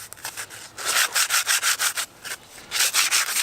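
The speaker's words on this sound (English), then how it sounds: "Now I'm sanding it for a couple reasons" Sandpaper rubbed back and forth over a pipe for an aquaponics filter, a close, loud run of rhythmic rasping strokes, about a dozen evenly spaced passes with a brief pause partway.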